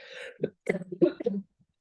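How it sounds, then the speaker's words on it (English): A few short throaty coughs and throat-clearing bursts, close and fairly soft, separated by brief silences. "I think I need to cough."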